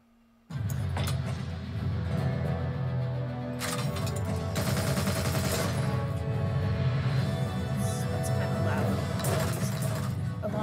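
A heavy bowgun fires ammo in Monster Hunter Wilds, a sudden onset of rapid booming shots and crashing impacts in dense bursts, mixed with game music and a voice talking throughout.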